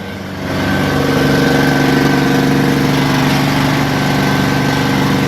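A loud steam cleaning machine starts up and runs with a steady, droning engine hum, close by and continuous, with no talking.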